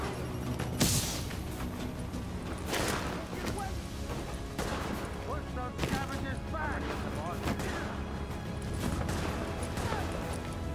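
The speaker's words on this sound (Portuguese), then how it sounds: "Lançaram aqui uma granada." A grenade goes off in The Division during a firefight at a police station, with a sharp crash near the start and scattered gunshots and booms across a dense, loud game soundscape, someone talking throughout.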